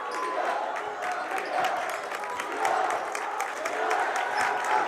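Crowd noise in a gym during a high school boys basketball game, a sustained mix of cheering and clapping with scattered shouts that swells slightly toward the end.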